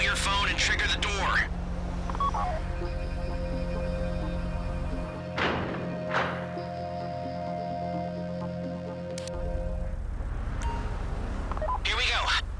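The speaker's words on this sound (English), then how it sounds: "Take out your phone and trigger the door." In the video game GTA V, a phone is used to trigger a door, producing steady electronic dialing tones over game ambience, with voices talking across much of the stretch.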